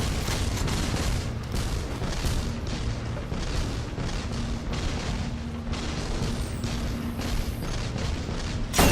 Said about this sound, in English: switching between the sniper rifle and the machine gun